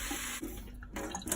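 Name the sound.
cold water poured into a soup pot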